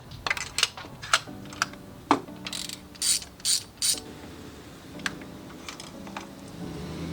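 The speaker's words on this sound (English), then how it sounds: "Now you want to go ahead and get your spark plug socket ready." A ratchet with a spark plug socket clicks in short bursts while spark plugs are removed from a G35 Coupe engine, with quick close ratcheting runs separated by brief pauses and no talking.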